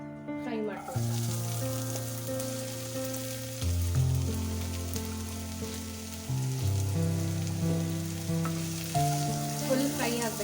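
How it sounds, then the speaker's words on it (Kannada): Onions frying in ghee in a pan give a steady, close sizzle that runs the whole time, layered under a loud sustained tonal background with shifting pitches. "ನೆಕ್ಸ್ಟು ಈರುಳ್ಳಿ ಫ್ರೈ ಮಾಡ್ಕೊಳ್ತೀನಿ."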